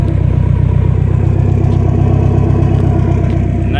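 BMW E30 with a turbocharged M42 engine idling through a turbo downpipe and turbo muffler, a steady loud, low rumbling exhaust drone with rhythmic pulsing throughout, close and alone.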